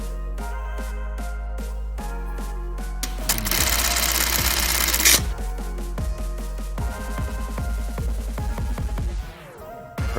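Juki LK1903A industrial button sewing machine running slowly with its speed locked at 1000 RPM, giving a steady train of close, even mechanical stitching clatter with a brief louder whirring burst midway and no speech.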